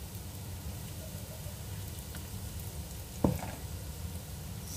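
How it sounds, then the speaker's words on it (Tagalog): Spices sautéing in a pan, a steady soft sizzle and crackle throughout, with one sharp clink of a utensil near the end. "igisa natin din ang spices"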